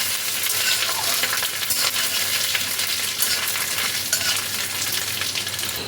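Chopped ginger frying in hot oil for bhuna khichuri, a loud continuous sizzle with bursts of crackling and spatula stirring strokes, close and without talk.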